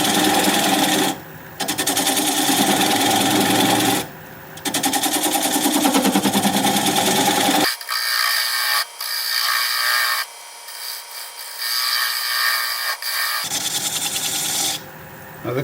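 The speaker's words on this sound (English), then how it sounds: "I'm going to spin the lathe up at about 600 RPM. I'm going to take this 3/8 inch standard grind bowl gouge and commence to removing the tenon." Wood lathe spinning at about 600 RPM while a 3/8 inch standard grind bowl gouge cuts away the tenon on a bowl, giving loud steady scraping bursts broken by short pauses, then a thinner, lighter cutting passage.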